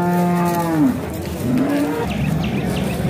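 A cow at a cattle market moos loudly and close by: one long, low, drawn-out moo, then a shorter second one, over steady crowd and market noise.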